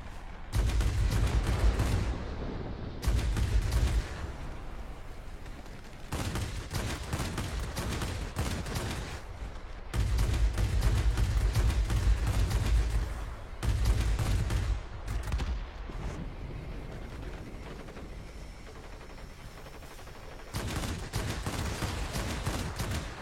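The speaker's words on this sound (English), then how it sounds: "You want to do short bursts. These cannons, like most cannons, do heat up pretty quickly." Aircraft cannons fire in a string of loud, short bursts of several seconds each, separated by brief pauses filled with engine drone.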